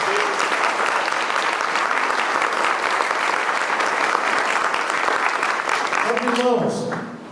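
A church congregation at a Lord's Supper service bursts into sustained, dense applause that holds steady for several seconds before tapering off, with voices mixed in the crowd noise.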